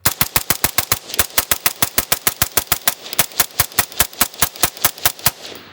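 A rifle fitted with a HUX WRX Flow 556K suppressor fires a full magazine in rapid, evenly spaced shots, about thirty sharp reports close by with no talking.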